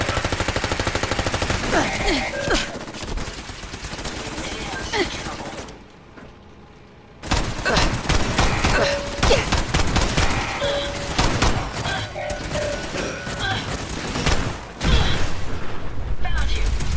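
Turret gunfire in the Fallout 4 video game, loud rapid bursts and fusillades with a brief lull midway, mixed with mechanical clanks and game effects.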